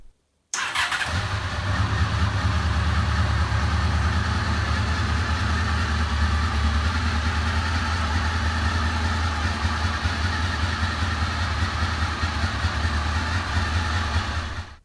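A Honda VFR800 Interceptor motorcycle engine, just revived after sitting in a shed, idles steadily and close up after a brief start, a continuous low rumble holding even for the whole stretch with no talking.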